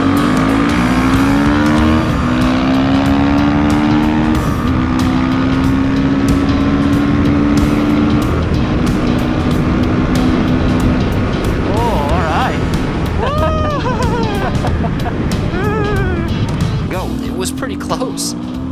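A Beta 480RR and a WR250R dual sport motorcycle race side by side from a rolling start, their engines loud and close, rising in pitch through gear shifts, with wind buffeting the microphone.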